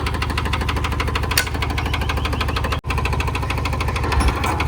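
A farm tractor's diesel engine chugs loudly and steadily while the tractor reverses, a close, rapid knocking rhythm that barely wavers throughout, with no voices.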